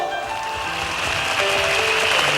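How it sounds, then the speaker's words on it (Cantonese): Concert audience applauding at a Cantonese pop show: a dense, steady wash of clapping from a large crowd, heard together with music and growing slightly louder toward the end. "俾啲掌聲好唔好"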